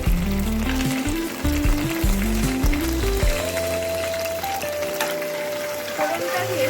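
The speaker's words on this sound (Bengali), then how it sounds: "চিংড়ি মাছ তেলের মধ্যে আমি গোটা গরম মশলা ফোড়নে দিয়ে দেবো" Whole cinnamon, cardamom and cloves sizzle in hot oil after prawns, a loud crackling burst early that settles into a softer steady fizz.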